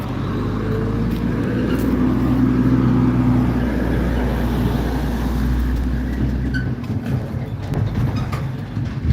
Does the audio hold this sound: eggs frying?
no